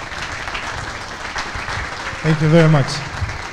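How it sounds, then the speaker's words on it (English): Audience applause at a community tech event, steady clapping throughout while someone briefly speaks over it near the end. "May I order a round of applause for supporting that initiative?"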